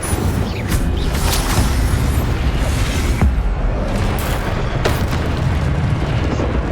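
A booming fiery blast from the Incendio spell in the video game Hogwarts Legacy, a dense roaring burst that fills the whole stretch, with sharper pops near the end.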